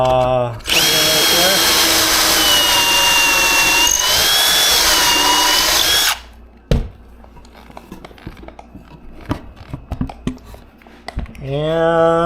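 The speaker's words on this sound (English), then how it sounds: "I got my handy drill" A cordless drill driving a screw runs loud and steady for about five seconds, its pitch shifting slightly as it drives, followed by quieter clicks and handling noises.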